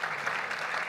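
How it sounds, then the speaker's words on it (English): A brief moment of audience applause for the panelists at a TechCrunch venture capital panel, with even, moderately distant clapping lasting about a second. "Could we give a round of applause for our amazing panelists?"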